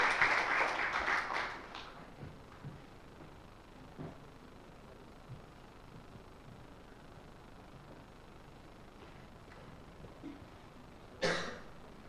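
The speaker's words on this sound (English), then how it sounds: "let's give a big round of applause for the moderator and the speakers today" A seminar audience at an international scientific fair applauds the moderator and speakers; a brief burst of clapping at the start fades quickly into quiet room tone, with a cough near the end.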